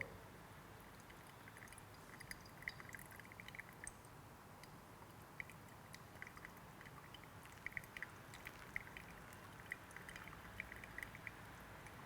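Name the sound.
pouring water over Kenyan coffee for pour-over brewing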